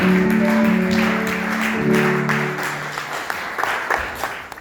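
A church congregation breaks into sustained applause and clapping, loud and steady at first and then thinning out, over held organ or keyboard chords.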